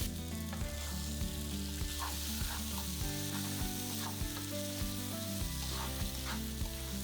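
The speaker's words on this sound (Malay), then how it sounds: "Gorengkan daging sehingga permukaan daging kelihatan garing sedikit seperti ini." Steady sizzling of mutton frying in curry paste in a hot pan, continuous and close, with occasional stirring scrapes and no talking.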